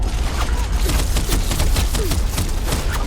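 A weapon fires repeatedly in Horizon Forbidden West, a loud, steady stream of rapid shots over a heavy rumbling din with no pauses.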